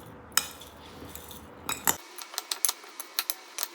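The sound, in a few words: stirring lemon pickle in a bowl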